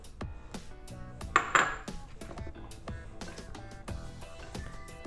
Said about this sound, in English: All toss them in with the celery and with the cilantro